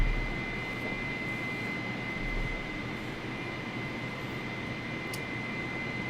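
Steady airliner engine drone from Microsoft Flight Simulator during a climb at flight level 220, a constant broadband roar with a fixed tonal whine, holding level throughout with no voices.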